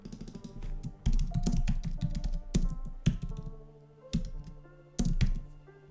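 Quick bursts of typing on a computer keyboard, close-up clacking keys in short runs separated by brief pauses, with a few heavier thunks as keys are struck, and no voices.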